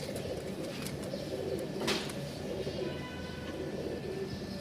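A breeding pair of pigeons, male and female, coo softly and repeatedly at close range over a steady background hiss.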